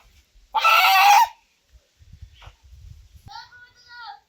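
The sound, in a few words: country chicken (desi hen) with tied legs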